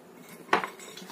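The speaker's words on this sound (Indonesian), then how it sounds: "Ini aku akan aduk menggunakan tangan seperti ini." A short clatter of a utensil against a bowl while dough of sweet potato and mung bean flour is mixed by hand, one sharp knock followed by a softer second, in a quiet kitchen.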